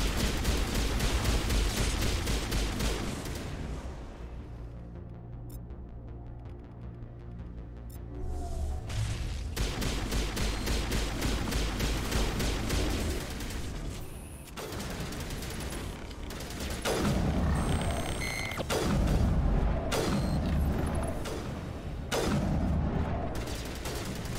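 Heavy sustained gunfire in Mass Effect (Legendary Edition) on a wasteland planet, with dense overlapping shots and blasts over loud game music, pausing briefly before resuming in several intense bursts.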